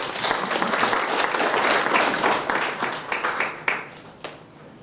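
Audience applause fills a hall at an alumni chapter induction ceremony, a dense, steady wash of clapping that holds for about three seconds, then thins into scattered claps and fades.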